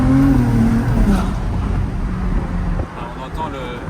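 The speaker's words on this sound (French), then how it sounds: "on entend le turbo à la fin qui se dégonfle comme un ballon de baudruche" A Ferrari 296 GTB with a twin-turbo V6 and F1 dual-clutch gearbox revs loudly up close, then the engine note drops away as the turbo releases its pressure with a soft whoosh, while someone talks over it.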